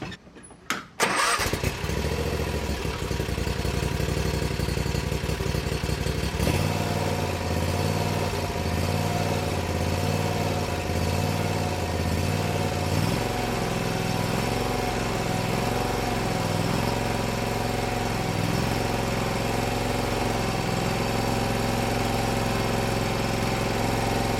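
A Bad Boy riding mower engine cranks and catches, then runs at a loud, steady drone close by, with a slight shift in tone partway through. No one speaks.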